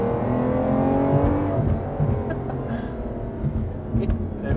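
A 2008 Aston Martin DBS with a manual gearbox and V12 engine drives at low speed, its steady engine drone and harmonic whine heard from inside the cabin, loud and continuous with slight pitch shifts, with no talk.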